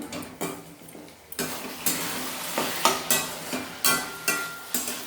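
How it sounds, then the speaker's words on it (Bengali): A spoon stirs sugar through food in a cooking pan, giving a series of scraping strokes at a steady rhythm over a soft background sizzle, close and fairly loud, with no talking. "এবার একটু নাড়াচাড়া করবো।"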